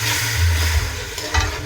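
A soy-based sauce with crushed tomato simmering in a pan, giving a dense, steady bubbling sizzle with low thumps, fairly loud and close, no voices.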